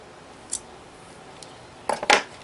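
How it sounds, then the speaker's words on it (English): Scissors snip the corner off a plastic bag of liquid epoxy, a faint single cut followed by two sharper, closer snips near the end, in a quiet room. "pinch the corner down, get all the epoxy out of the way, and snip off just a tiny piece of the corner"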